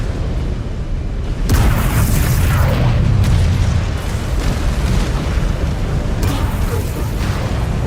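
A missile explosion in MechWarrior 5: Clans: a loud, deep boom bursts out and rumbles on, followed by further heavy blasts and a continuous roar, with faint voices in the mix.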